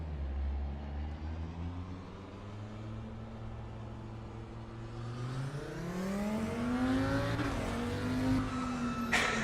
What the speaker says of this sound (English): there's that 5-cylinder noise we know